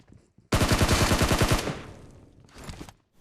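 Rapid automatic gunfire in the BGMI battle-royale game, a loud burst of closely spaced shots lasting about a second, then a fading tail and a short second burst.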